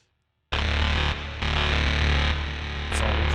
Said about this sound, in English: Oh, it's distorting and I don't know how.